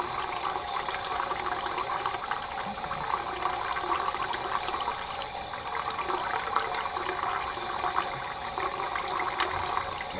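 Water splashes and pours steadily as a fishing bait pulled from a river is rinsed off, a continuous close wash of running, sloshing liquid with no talking.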